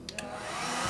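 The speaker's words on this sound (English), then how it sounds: "We'll heat shrink this fella up." Heat gun shrinking heat shrink tubing over a wire joint during a battery mod on Eachine EV800D FPV goggles, a steady close airy blower roar filling the whole second after two faint clicks.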